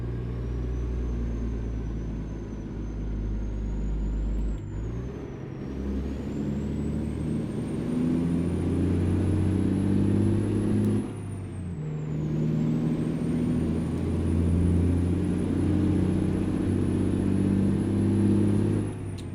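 A heavy truck hauling a loaded trailer in American Truck Simulator labours through acceleration, its deep engine drone climbing in pitch through two long gear pulls with a brief drop between them, loud and continuous.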